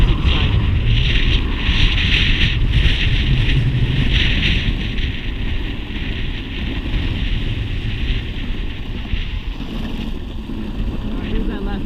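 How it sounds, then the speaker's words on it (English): Strong, steady wind buffets the microphone throughout a ride on a Backfire G3 electric skateboard along a sidewalk, a loud continuous roar with low rumble that eases slightly toward the end. "The wind is literally blowing me right into the sidewalk."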